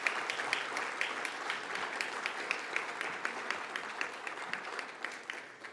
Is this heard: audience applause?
yes